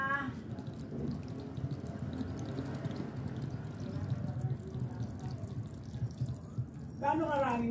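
Water is poured or run from a tap to cook Lucky Me Pancit Canton instant noodles, a steady close rushing splash that lasts throughout, with a brief voice near the end.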